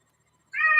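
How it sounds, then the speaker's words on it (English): A cat meows once, a clear, close, sustained call that starts abruptly after a brief silence, heard in a quiet room during a city arts commission meeting. "The cat says aye, too."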